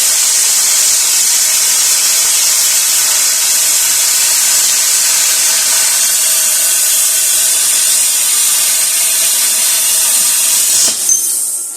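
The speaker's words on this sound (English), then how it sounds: "I just thought I'd show a little bit more video of cutting some 1/4 inch." A VEVOR plasma cutter slices through 1/4 inch steel at 45 amps, a loud, steady, close hissing rush that holds for about eleven seconds before stopping abruptly.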